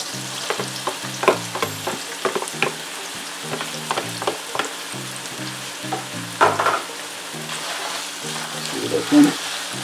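Boiled, desalted saltfish frying with ackee in a pan, a constant close sizzle broken by repeated sharp scrapes and clanks of a utensil stirring against the pan.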